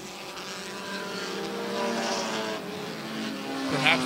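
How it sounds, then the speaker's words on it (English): Race cars roar around the Airborne Speedway track in Plattsburgh, New York, making a continuous droning engine roar that rises as cars pass, with a commentator's voice over it. "And the four is off the pace in turn one, Rick."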